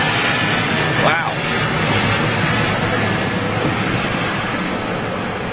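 An American Eagle CRJ regional jet at Los Angeles International Airport, a loud continuous roar of jet engine noise filling the scene, with people talking over it.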